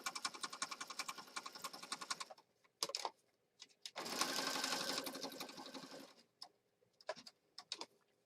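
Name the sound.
sewing machine stitching mixed media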